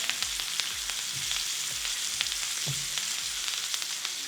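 Rack of lamb sizzles in a pan with melting butter, garlic and thyme, a steady crackling fry with frequent small pops and spits, close up and continuous with no talking.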